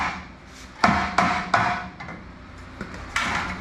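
Several sharp metallic hammer strikes on Dodge D150 truck front suspension parts, irregularly spaced, ringing briefly against a low background hum, fairly close.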